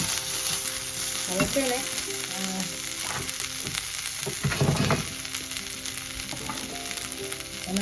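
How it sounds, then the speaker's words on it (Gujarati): Red chillies fry in a kadai with a constant bright sizzle and crackle, while scattered pops and light stirring knocks come through; a voice speaks briefly. "લાલ મરચાં ઉપરથી મૂકવાના એટલે શેકાઈ જાય."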